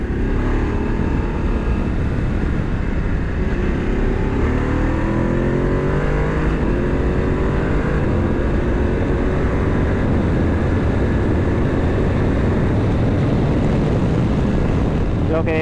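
Voge 900 DSX motorcycle engine droning steadily while riding, loud and continuous with wind rush, the pitch rising and falling through gear changes across the whole stretch.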